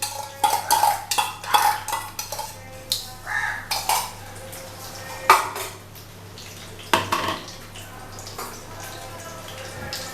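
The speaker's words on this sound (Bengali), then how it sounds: "এটাকে আমি তাহলে মাখাচ্ছি" Meat being mixed by hand with thick, whisked sour yogurt in a bowl, heard as a string of close, wet squelches and light clatters of bowl and utensil, bursts coming irregularly with short pauses between.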